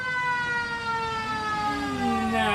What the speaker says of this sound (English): Oh, it's the fire truck. Woo! Cue siren!